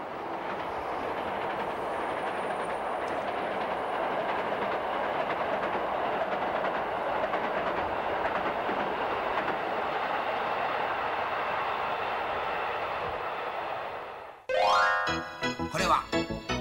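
A train rumbles steadily along the rails for a long stretch, then the noise gives way to a short bright musical chime.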